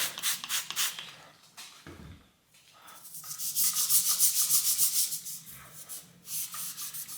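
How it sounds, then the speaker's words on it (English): Scotch-Brite pad scrubbing surface rust off the stanchion of a seized RST Gila T5 bicycle suspension fork, a close, steady abrasive rubbing in back-and-forth strokes with a short pause midway. "Use a little bit of Scotch Brite here."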